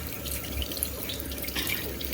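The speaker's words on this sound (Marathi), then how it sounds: "तुम्हाला दाखवतो मी एक मटका धुवून." A clay pot, already painted and coated with mud, is rinsed under steadily running tap water, a continuous splashing stream that stays close and fairly constant for a couple of seconds.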